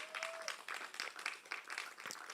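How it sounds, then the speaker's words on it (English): Audience applause at a Youth in Diaspora seventh anniversary event, a moderate, steady patter of many hands clapping for about two seconds, with a brief tone at the start and no talk over it. "can we put our hands together as she makes her way?"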